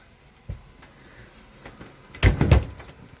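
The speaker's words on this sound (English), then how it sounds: "Sliding door" A closet sliding door in a 5th wheel camper, rolling open with a light bump, followed by a louder rattling slide and knock near the end.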